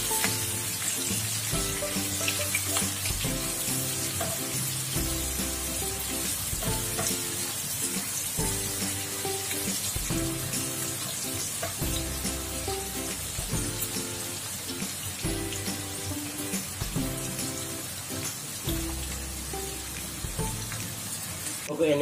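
Sliced onions fry in a pan for pork estofado, a continuous close sizzle with scraping stirring strokes repeating at a steady rhythm over a low background hum.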